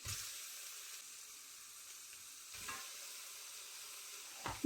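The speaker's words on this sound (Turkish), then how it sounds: "soğanlarımız kavrulurken içerisine ben kemikli et kullanıyorum" Onions and bone-in meat sauté in a Fissler pressure cooker, making a soft, steady sizzle and hiss with a couple of brief stirring scrapes, close but fairly quiet.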